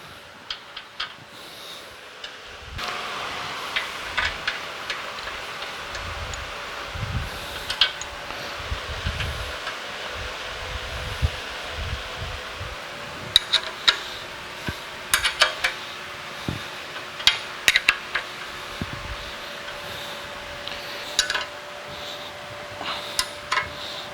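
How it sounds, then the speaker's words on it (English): Bolts are tightened on a Kalamazoo P-45 bandsaw in a workshop, with scattered metallic clicks and clanks of a wrench over a low steady hum. "we can finish tightening it down with these bolts"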